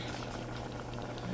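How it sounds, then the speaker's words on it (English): A pot of oatmeal with little water bubbles and boils on the stove, giving a steady, faint, continuous bubbling close by with no talk. "I just realized there wasn't a lot of water in my oatmeal here. It's bubbling."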